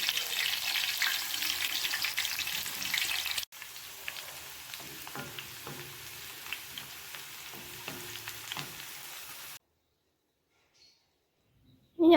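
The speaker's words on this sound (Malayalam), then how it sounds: "ഇപ്പം നമുക്ക് ഈ ഉള്ളി ഒന്ന് പൊരിച്ചെടുക്കാനാണ്." Onion frying in hot oil on a tava gives a steady close sizzle with occasional stirring clinks, cutting off abruptly near the end.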